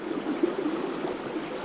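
Water flows in a stream with a steady, close rushing and burbling that fills the short stretch evenly and has no other sounds.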